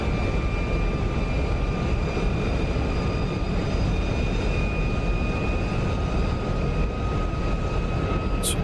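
An SR-71's jet engines with afterburners lit in the DCS flight simulator give a constant, dense roar with steady whining tones, unbroken and loud throughout.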